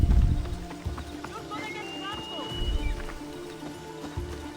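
Horse hooves pound in a quick galloping rhythm in a video game while a voice talks over them.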